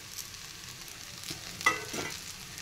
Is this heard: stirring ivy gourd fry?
yes